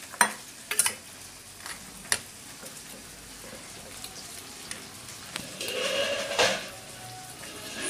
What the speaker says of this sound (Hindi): तो वहाँ पे मैं फ्राई कर रहा हूँ, फ्राई करेंगे।